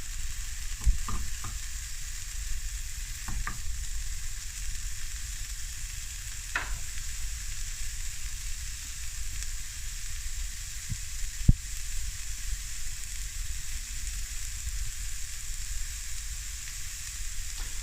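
Bacon fries in a pan for carbonara, a steady, even sizzle and crackle throughout, with a few soft clinks and stirring taps and no one speaking.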